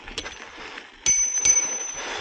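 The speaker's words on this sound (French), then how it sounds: "On va actionner la sonnette." A bell on an enduro mountain bike rings several times during a muddy trail ride, giving sharp metallic dings with a lingering high ring. Faint riding noise continues in the background.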